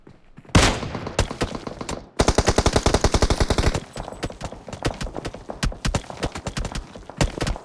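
Bursts of gunfire trade back and forth in a battle royale game, with a Kar98 bolt-action rifle in play: loud rapid automatic volleys, a dense sustained string of shots, then scattered quieter cracks with no talk.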